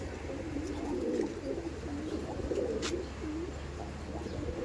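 Pigeons at a Barasat pigeon-keeping spot coo steadily and close by, soft rolling calls overlapping in a continuous low murmur with a faint higher chirp partway through.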